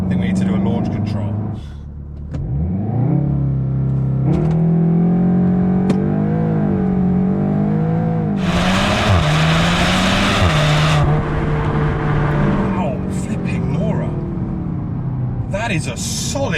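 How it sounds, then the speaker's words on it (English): A tuned Seat Leon Cupra R ABT with 350 bhp does a launch-control start: the engine holds a loud, steady rev, then pulls hard through rising and falling gear changes with a burst of hissing noise midway, heard from inside the car. "the way we're going to do that first is I think we need to do a launch control."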